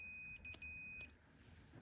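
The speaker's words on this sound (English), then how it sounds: "Beep beep." A multimeter on continuity mode beeping while a boiler fuse is tested: one sustained high electronic tone that breaks off briefly and resumes, with small clicks from the probes, quiet and close.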